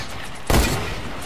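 A single sharp burst of gunfire in a Fortnite match, one abrupt loud crack with a short decaying tail against a faint background.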